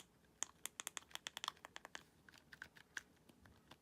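Tactile buttons on a cheap Game Boy Zero Raspberry Pi mod click sharply in a quick irregular series, close and crisp in a quiet room.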